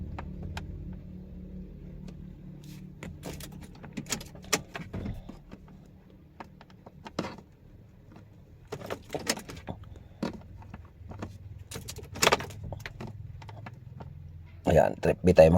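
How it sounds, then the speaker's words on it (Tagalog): An ignition key is switched off in a Toyota D4D during a timing-belt reset, giving scattered clicks and a brief key jangle over a low idle hum, with a louder clatter near the end. "Ayan, off natin susi."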